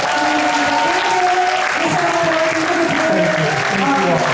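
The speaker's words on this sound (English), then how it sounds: "let's give him a big round of applause." A large audience at a Korean-American forum gives a long round of applause for the guest speaker. The clapping is loud and dense and holds steady for the whole stretch, with voices mixed in over it.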